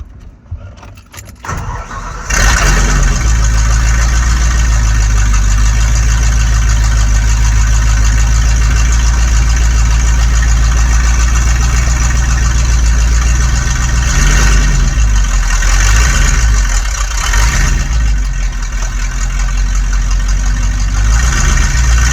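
A car engine fires up after an engine swap and idles loud and raw with no exhaust fitted, a steady close rumble that surges briefly mid-way.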